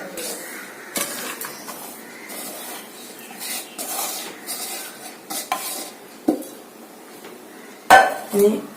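A spoon scrapes and clinks against a metal vessel while rice flour is mixed with grated coconut, with irregular stirring scrapes and a couple of sharper knocks near the end, and no talk.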